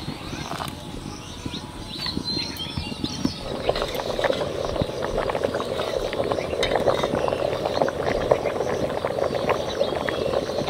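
Rice boils over in a cooking pot with a steady bubbling hiss and sizzle, close and loud, and light clinks of utensils now and then.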